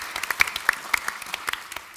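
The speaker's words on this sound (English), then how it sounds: "We should applaud." A small group at a talk begins to applaud, with sparse, distinct claps from a few people scattered unevenly, some sharp and close, rather than a full ovation.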